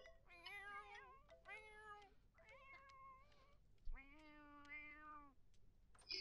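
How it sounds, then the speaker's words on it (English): Several cats in The Sims 4 meow in a string of drawn-out, tonal calls, about four or five distinct meows, fairly clear and close, with faint background game ambience and no talking. "There's so many cats."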